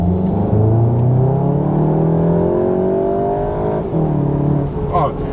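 A 2020 Volkswagen Golf 7 GTI 245 Performance accelerates from inside the cabin, engine pitch climbing steadily, then dipping briefly for a gear change before rising again, with voices talking over it.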